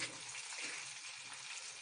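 Ginger-garlic paste, chili paste, cumin powder, salt, garam masala and sugar sizzle steadily in a pan for Bengali-style paneer pulao, a close, continuous frying hiss with light stirring scrapes and no talk.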